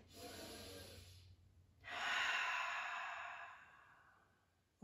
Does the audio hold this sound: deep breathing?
yes